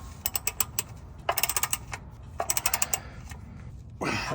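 A Toyota Tundra bolt being hand-tightened with a wrench: rapid bursts of ratchet clicks in several short runs, close and fairly quiet, with a brief scrape at the end.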